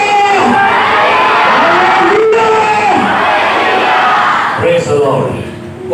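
A church congregation shouts slogans together, a loud crowd of voices rising in rhythmic surging calls and cheers that swell and fall over several seconds, with a brief drop near the end.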